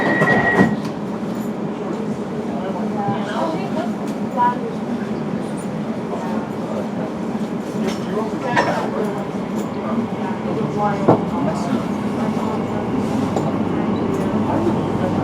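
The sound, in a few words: Elizabeth line underground train riding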